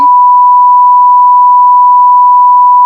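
A censor bleep sound effect: a single loud, pure electronic tone that holds steady and unbroken for about three seconds, heard on its own with nothing else.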